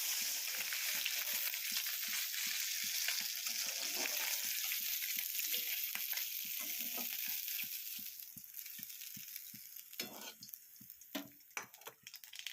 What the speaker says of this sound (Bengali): প্রথমে মাছগুলো নুন হলুদ দিয়ে মাখিয়ে ভেজে নিলাম